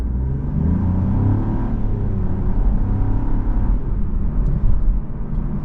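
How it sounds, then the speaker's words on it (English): A 2024 Buick Envista ST pulls away after braking, its engine rumbling and revving under load in a steady, close, low drone from the cabin. "Stops nice and straight in a straight line, and then we'll take off."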